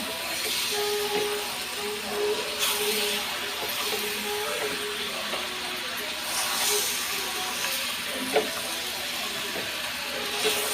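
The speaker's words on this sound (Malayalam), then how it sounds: "ഞാൻ ഇനി ഇതൊന്ന് ഇളക്കട്ടെ ഇനി ഇത് ഇളക്കി നല്ലപോലെ" Chicken curry being stirred and sautéed in a pan, with a steady hiss of frying running throughout and occasional soft scrapes and clinks of a utensil against the pan.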